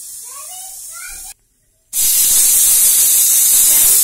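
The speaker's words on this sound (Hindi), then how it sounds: "कुकर की सीटी आने वाली है" A pressure cooker cooking saag lets out a loud, steady hiss of escaping steam. It starts after a brief gap, follows a softer hiss with faint squeaky tones, and stays close and constant.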